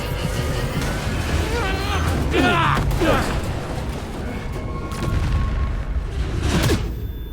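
A rumbling explosion in the video game S.T.A.L.K.E.R. 2: Heart of Chornobyl, a sustained boom with crashing debris over a dense game soundscape, with a voice speaking over it.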